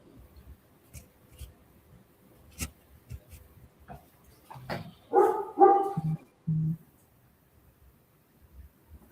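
A dog barks in the background of an indoor live stream, a brief cluster of several barks midway through, with quieter scattered noises and little talk around them.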